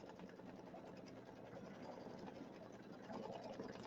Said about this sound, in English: So we're just doing a tack down stitch.